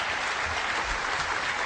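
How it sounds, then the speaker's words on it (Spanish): A crowd gives leaders a big round of applause, a dense, even wash of clapping throughout with no voices over it. "Un gran aplauso para sus líderes"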